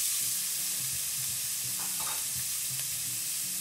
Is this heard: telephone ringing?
no